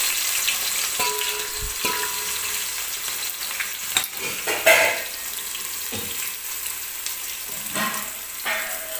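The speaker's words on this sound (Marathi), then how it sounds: "तर हा जो कांदा आहे तो मी तेलामध्ये टाकून घेते" Thinly sliced onions, cut lengthwise, fry in a modest amount of oil for a chicken dum biryani, giving a steady close sizzle with scattered crackles and a few stirring clinks, no talk.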